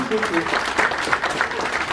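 An audience applauds a singer after a duo, a short wash of clapping with voices mingled in.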